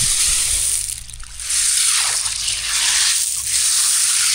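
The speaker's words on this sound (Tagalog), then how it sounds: "Yung tunog ng mga bato." Waves wash in and drag back over pebbles on a shore at Lobo, Batangas, in slow, rhythmic surges, a bright hissing rattle swelling and fading about every two seconds.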